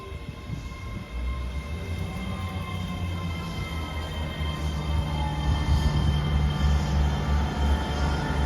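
ScotRail Class 385 unit 385029 runs into Stirling station as empty coaching stock. Its deep rumble builds after the first second and stays loud and steady as it draws in, with no voices.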